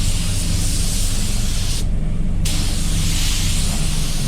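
A Walcom HVLP spray gun sprays primer wet on wet, a loud, continuous broadband hiss close to the gun that cuts out briefly near the middle and then resumes.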